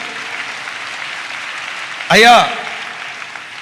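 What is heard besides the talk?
church congregation clapping hands in praise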